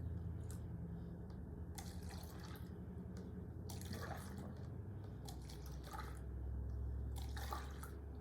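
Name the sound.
liquid poured back and forth between cups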